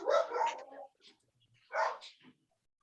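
Dogs bark twice, in two short, loud bursts separated by a brief gap, heard indoors.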